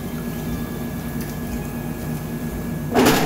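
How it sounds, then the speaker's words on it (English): Canned tomatoes poured into a saucepan of cooking sauce, a sudden wet squishing splash near the end over a steady low hum from the stove. "So we're gonna add some of the tomatoes."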